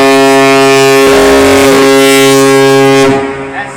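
Carnival cruise ship horns blast in a horn battle on leaving Freeport, Bahamas: a long, deep, very loud horn chord with a pitch-sliding overlay, then fading, with people reacting in the background.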